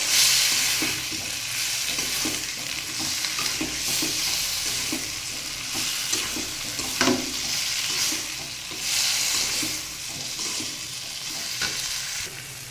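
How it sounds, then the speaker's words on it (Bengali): Bottle gourd and boiled chana dal being stirred together in a hot pan, with a spatula scraping in a steady repeated rhythm over a continuous close, loud sizzle. "এবার এটাকে ভালোভাবে নেড়ে চেড়ে মিশিয়ে দেবো।"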